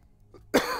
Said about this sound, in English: Don't mean to cough,